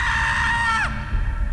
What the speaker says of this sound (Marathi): पण आता एका मुलीच्या किंचाळण्याचा आवाज येत होता.